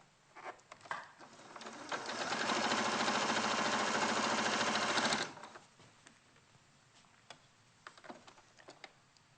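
A sewing machine chain-pieces starched fabric pieces one after another. Scattered handling clicks come first, then a loud, steady, fast-running whir lasts about three seconds and stops, followed by quieter rustles and taps.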